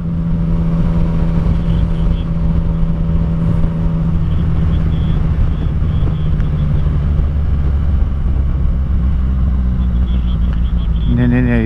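Car driving along a road near Krzyżtopór castle, a loud steady engine rumble with tyre noise running throughout, close and continuous, with a higher whine creeping in near the end.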